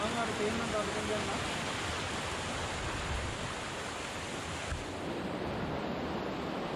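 Bambarakiri Ella waterfall at Riverston, Matale, a steady broadband roar of falling water, close and continuous without breaks, with no talk over it.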